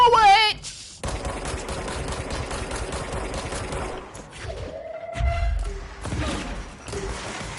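Rapid gunfire in the video game Control, sustained automatic bursts filling most of the clip with sharp repeated reports, a brief pause and a rising whine midway, then more shooting layered with game effects.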